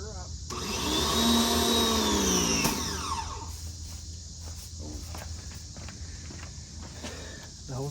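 A 5000 PSI power washer fires up with a loud, steady whine and whirring harmonics that rise, then drop away after a few seconds, leaving a lower running drone with scattered clicks and spray sounds.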